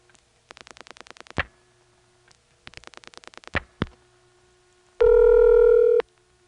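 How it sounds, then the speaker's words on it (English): Through a quaint 3-slot coin telephone on an XY step-by-step switching exchange in the Commerce, Georgia area, two quick trains of rapid relay and dial clicks each end in a sharp clunk, followed by a loud one-second steady tone. "you hear extra relay noises sometimes when the switch hook goes up and when the dial comes back to rest"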